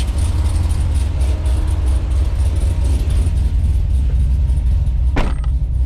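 A modified Corvette C6 Z06 idles with a deep, loping low rumble that sits close and steady throughout, with a brief higher swell near the end.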